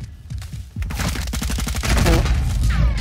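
Online shooter game gunfire in a close-range fight: dense bursts of rapid shots, loud and continuous, building to heavier firing.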